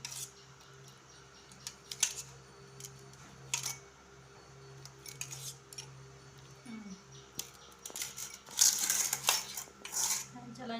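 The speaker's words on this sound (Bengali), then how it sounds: "চামচের সাহায্যে কিন্তু আমি পুরো আমটাকে ছাড়িয়ে নেব" A metal spoon scrapes the soft pulp out of a roasted raw green mango, giving scattered clinks and rasping scrapes that come in short bursts, busier toward the end, with faint background hum.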